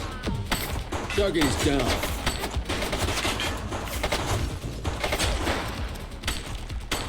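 Sustained gunfire in The Precinct during a raid on the August Gang: dense, continuous bursts and shots fill the whole stretch while voices shout over the shooting.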